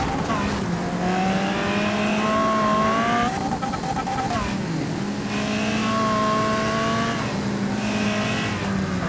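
Engine of a small racing car in the video game Wreckfest, revving and rising in pitch through gear changes, loud and close, with brief tire noise.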